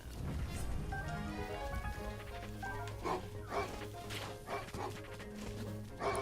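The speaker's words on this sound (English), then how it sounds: "Can I flurry rush this dog?" Dog barking in a Zelda game, with short bark bursts scattered over layered game music and effects.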